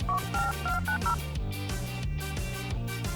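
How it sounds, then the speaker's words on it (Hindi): A phone keypad beeps out a quick series of short dialing tones to call the police, over steady background music that continues after the tones stop. "चलो फोन चार्ज करते हैं और पुलिस को बुलाते हैं।"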